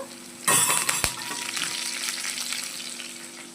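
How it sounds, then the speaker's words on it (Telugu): Tempering spices, crushed garlic, dried red chillies and curry leaves, hit hot oil with a sudden loud sizzle, followed by a sharp crackle and a steady frying hiss that slowly settles. "మనకి తాలింపు అయితే చక్కగా ఫ్రై అయిపోయింది"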